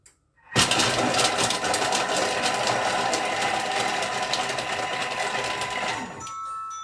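A kitchen robot chops onions for five seconds at speed 5, a loud steady whirring motor with dense blade clatter that starts abruptly and runs evenly before cutting off.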